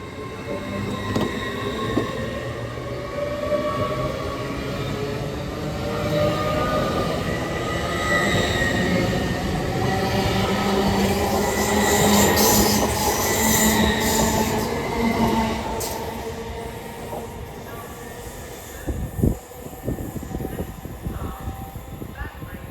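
An LNER passenger train departs Durham station, its rumble and rolling wheel noise building and fading over a long stretch, with squealing wheels and rail clatter nearby and a brief metallic click toward the end.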